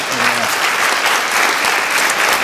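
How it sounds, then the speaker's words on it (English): An audience applauds at a Teacher of the Year awards ceremony. Dense, steady clapping fills the whole stretch, loud and close, with a brief voice at the very start. "Let's give her a round of applause."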